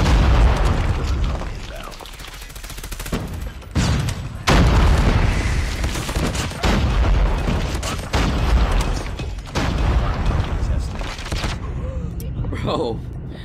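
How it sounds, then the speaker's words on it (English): Repeated loud booms and bursts of a grenade exploding in Call of Duty Mobile, layered over continuous gunfire and battle noise, with talk over the action. "Grenade out"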